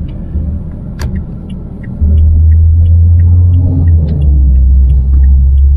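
A car driving on Romanian town roads near Corvin Castle gives a steady close engine-and-tyre rumble that swells louder partway through, with faint clicks above it.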